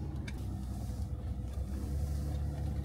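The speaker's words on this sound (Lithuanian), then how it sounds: "Tai mechaninė pavarų dėžė." A manual-gearbox car on an off-road AWD tour through muddy country roads drives with a low steady engine rumble inside the cabin, even and continuous.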